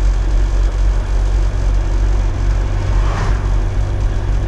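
Steady low engine rumble from a car, continuous and fairly loud with an even idling drone throughout, no speech over it.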